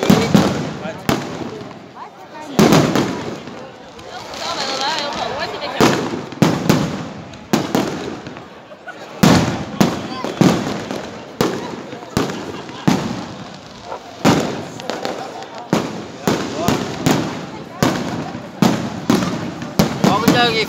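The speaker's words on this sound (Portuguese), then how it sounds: "fogos de artifício aí de Marcos de Souza aí" Fireworks at a town's emancipation anniversary festival in Marques de Souza pop and crackle in rapid, irregular bursts across a long stretch, with loud booms standing out and faint voices in between.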